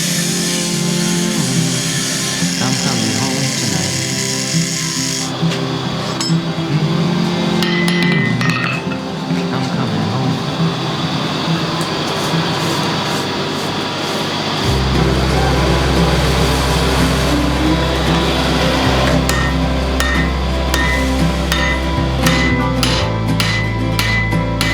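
A hot recycled steel bar struck with a hammer at a forge, bright metallic clanks ringing out repeatedly in an irregular rhythm, with a low steady roar of the forge underneath in the second half.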